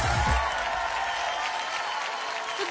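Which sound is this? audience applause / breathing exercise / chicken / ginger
audience applause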